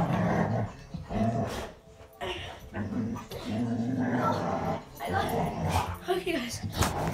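Dogs playing tug of war growl, whimper and let out short yips up close, shifting between low rumbling snarls and higher whining cries in uneven bursts.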